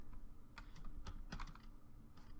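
Fingers tap on a computer keyboard in short, irregular bursts of clicks, quiet and close, with a faint steady hum beneath and no voices.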